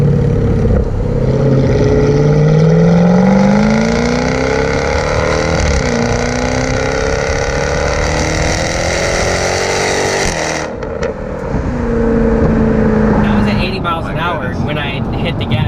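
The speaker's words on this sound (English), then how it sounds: "When I hit the gas, and like even at 80, you can still feel it just go." A Jaguar F-Type R AWD accelerates hard, its engine revving loud and close with rising pitch through gear changes, then a sudden lift-off and quieter crackling before building again.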